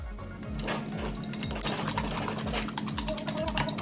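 Five eggs beaten for a plum cake, heard as quick rhythmic beating strokes in a bowl with a soft repeating low thud under each stroke, close and steady, without talk.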